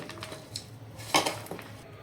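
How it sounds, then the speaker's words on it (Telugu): A spoon clinks and scrapes against a bowl as ash gourd chips batter is stirred, with light intermittent knocks and one sharper clack near the middle, close and fairly quiet, with no voices. "ఈ విధంగా ప్రాపర్గా అన్నీ కలిసేటట్టు మిక్స్ చేసుకోవాలండి"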